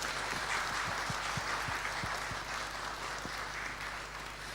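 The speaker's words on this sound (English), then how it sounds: "Should we give Alex a round of applause?" An audience at a church gathering applauds in a steady, faint patter of many hands, with a few sharper individual claps standing out early on.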